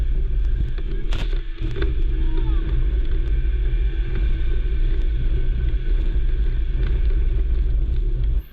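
Snowmobile driving through deep snow after a big snowfall in Minnesota, a steady loud low engine rumble with wind buffeting on the mic, continuous and close throughout.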